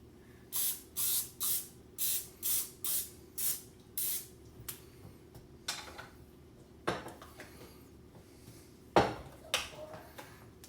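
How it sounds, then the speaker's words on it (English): Rapid short bursts of cooking spray hiss onto a pan, about eight quick sprays in a row, followed by a few clinks and bumps of cookware. "Then spray on your pan."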